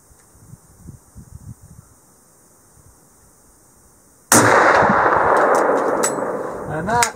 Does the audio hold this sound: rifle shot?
yes